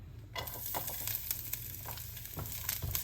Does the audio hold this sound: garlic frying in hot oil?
yes